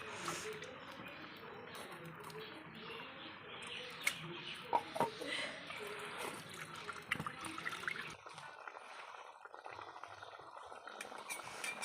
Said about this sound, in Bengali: চিংড়ি মাছগুলি কেটে নিয়েছি, এবার ধুয়ে নেবো ভালো করে।